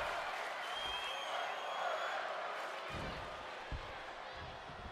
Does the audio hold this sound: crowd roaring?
yes